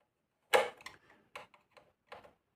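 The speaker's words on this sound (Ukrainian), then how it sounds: "І відвинтити 4 гвинти." Screws being undone on a Mayak-M radio receiver make a few sharp, close metallic ticks and clicks, one louder snap followed by softer scattered taps in a quiet room.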